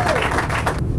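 An audience at a political party investiture ceremony claps in a brief, dense burst of applause.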